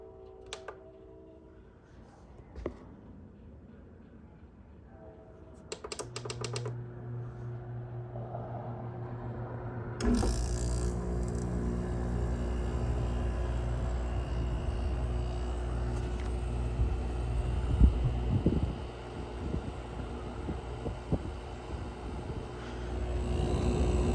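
A freshly cleaned window air conditioner is cold-started: a faint hum and clicks first, then the compressor kicks in and settles into a steady, louder mechanical drone with a low hum and fan whoosh.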